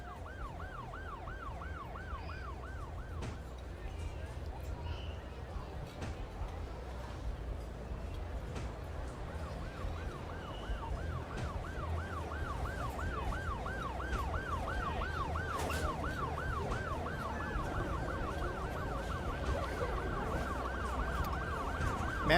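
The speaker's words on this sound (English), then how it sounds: "Man, with all the sirens in this city, you'd think there's like an emergency going on." Emergency vehicle sirens wailing through a city in the game Cities Skylines 2, a repeating up-and-down siren tone that fades, then returns and builds over low traffic rumble.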